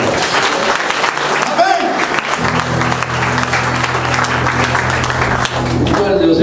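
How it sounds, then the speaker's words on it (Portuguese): A church congregation at a Sunday service applauds loudly and steadily in a big hall, the clapping continuous throughout with a voice speaking over it and a sustained musical tone entering partway. "você pode aplaudir a Jesus de novo"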